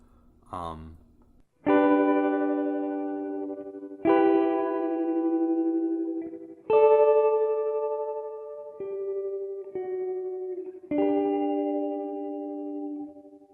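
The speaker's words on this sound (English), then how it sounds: "Number 2, I think, is the tremolo mode, and I absolutely love tremolo reverb." Several sustained guitar chords ring out one after another, each pulsing with a wavering tremolo and washed in reverb that trails off between strums.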